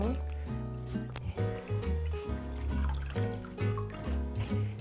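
Green laver seaweed is shaken and washed in a bowl of water, giving repeated sloshing and splashing bursts in an uneven rhythm, close and fairly loud, while someone speaks over it.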